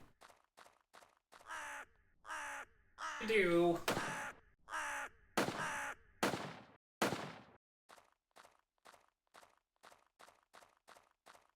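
Crows in the video game Red Lake caw in repeated harsh bursts, loud and close, mixed with sharp gunshot-like cracks, while a person talks over part of it.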